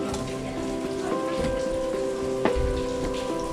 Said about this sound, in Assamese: বৰষুণৰ কাৰণে চিন্তা কৰি আছোঁ